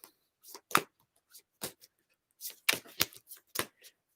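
A deck of reading cards being shuffled close up in several short, crisp riffling bursts separated by brief pauses, with no talk over it.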